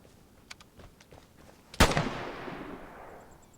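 Gunfire in the video game Vigor: a few faint distant pops, then one sharp loud shot that rings out and echoes away into a long fading tail.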